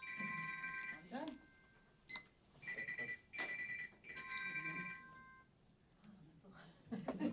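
A phone ringing with repeated bright electronic tones, echoed by a smartwatch chiming along, in a room during a local party committee meeting, with people talking in between.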